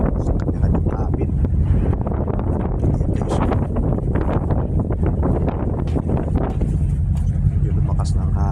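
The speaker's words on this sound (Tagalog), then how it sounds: "Medyo lumakas na ang hangin." Strong wind buffeting the microphone aboard a ferry traveling from Caticlan to Batangas, a loud continuous rushing roar with engine rumble beneath, and someone talking throughout.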